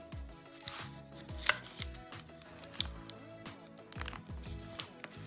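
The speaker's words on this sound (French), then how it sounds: "j'ai pris mon couteau pour couper les bords, pour que ça soit joli" A kitchen knife trims the pastry edges of a homemade apple tart, giving a steady series of crisp cuts and taps against the board. The cuts are close and fairly quiet, and no one speaks.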